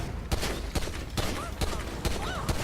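Gunfire in the video game GTA 5: a sharp shot roughly every half second, six or seven reports in a steady burst, loud and close over a busy game background.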